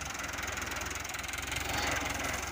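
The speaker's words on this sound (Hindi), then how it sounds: "हुण सुक्की जगह ते ट्रैक्टर लाण लगे हैं" A tractor engine runs steadily under load with a rough, knocking low rumble while pulling a stump out of a garden, close and continuous, with no talking.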